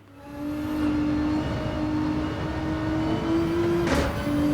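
Simulated car engine in Gran Turismo 7 held at high revs as the driver downshifts into a left-hand corner, a steady loud engine drone with shifting pitch and a brief burst of noise near the end, no talk.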